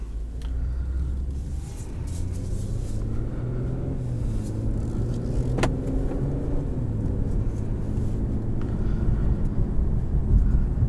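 A 2021 Infiniti Q50 Red Sport drives along, heard from inside as a steady low road and engine rumble that swells slightly, with a few faint clicks and knocks over the drone and no talking.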